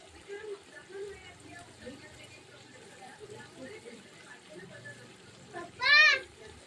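Water poured into masala chicken cooking on a wood-fired stove, heard as a short splashing gush near the end over a low background of distant voices and kitchen clatter.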